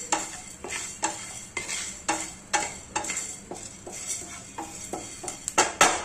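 Dry long-grain rice is roasted in a pan for kheer, a spoon stirring and scraping in repeated, fairly regular strokes that are close and distinct, with no talking.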